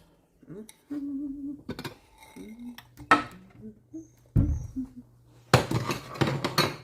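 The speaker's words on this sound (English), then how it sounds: "Get some bowls out" Bowls clink and knock as they are taken out and set down on a kitchen counter during cooking, several sharp ceramic taps and rattles spaced apart, with a person talking between them.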